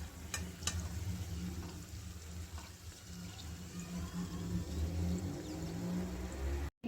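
A second batch of chandrakala sweets frying in hot oil at home, a steady soft sizzle with faint crackles and a low hum, quiet and continuous, ending in a brief cut.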